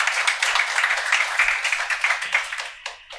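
An audience at a dharma talk claps together, a dense burst of applause for about three seconds that fades out at the end, close and fairly loud.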